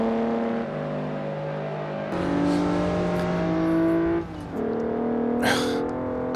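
A Volkswagen Jetta VR6 engine hums loudly and steadily from close by, its tone stepping up as it revs, dipping briefly, then settling again, with a short whoosh near the end.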